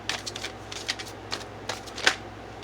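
Tarot cards being shuffled by hand in a quiet room, a run of soft riffling bursts arriving every half second or so, the loudest snap near the end, with no voices.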